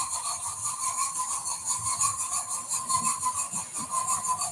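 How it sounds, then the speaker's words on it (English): A model locomotive's three-cylinder steam engine sound from an ESU sound chip chuffs steadily with a rough, hissing rhythmic texture and a faint whistling tone, heard at moderate volume without talk. "That's the 3-cylinder sounds that I got from ESU."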